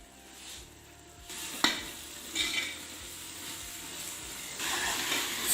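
Masala of turmeric, crushed red chili powder and salt sizzles in a pan for aloo matar, with a steady frying hiss and scraping stirs of a spoon; a sharp clink of the utensil against the pan stands out.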